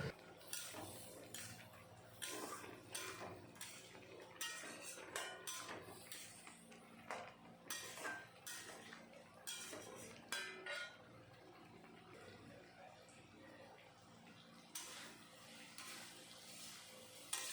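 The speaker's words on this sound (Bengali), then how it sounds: "মশলার সাথে আলু এখন ভালো মতন কষিয়ে নেব।" Fried potatoes are stirred with spices in a pot: a spatula knocks and scrapes against the metal in quick irregular clinks, fairly soft and close, with a faint sizzle beneath.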